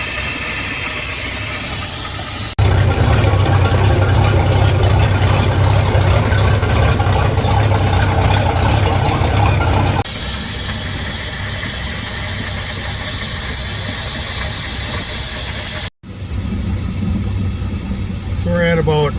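Mercruiser 4.3 or 5.0 marine engine idling low around 650 rpm while warming up, a steady droning rumble that runs continuously, with a brief dropout near the end.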